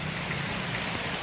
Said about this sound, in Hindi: रुक रुक के बारिश हो रही है, देखिए